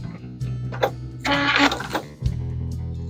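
A sewing machine stitching binding onto a quilt, running in short bursts of whirring and clattering with a low motor hum between them, close and fairly loud.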